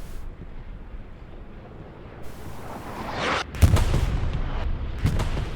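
Bombs from an air strike in the Hell Let Loose war game land with deep rumbling blasts that build over a windy, noisy battlefield, one sharp heavy boom standing out near the end.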